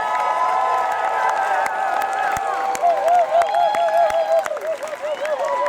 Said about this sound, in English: Please, the loudest round of applause tonight for all those people.